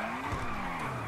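In GTA 5, a Maibatsu Penumbra drifts with a sustained tire squeal over a loud engine drone, a continuous close skid throughout.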